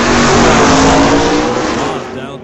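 Old-time drag racing cars, among them an old Ford Falcon, roar loudly and continuously with engine noise close by, gradually fading toward the end.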